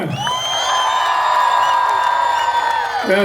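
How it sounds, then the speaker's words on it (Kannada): A large outdoor crowd cheers and whoops in a sustained roar, with a steady whistle-like tone riding over the noise, at a film success celebration for the movie UI at Karkala Utsava 2024. "ಜೋರಾಗಿರೋ ಚಪ್ಪಾಳೆ ಕೊಡಿ ಹೌದು ಅಂತಂದ್ರೆ"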